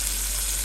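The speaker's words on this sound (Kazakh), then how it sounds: "сковородкаға майымызды қыздырып, осы шампиньондарымызды қуырып аламыз" Champignon mushrooms fry in hot oil in a pan, giving a steady, dense sizzle that holds an even level throughout with no voices.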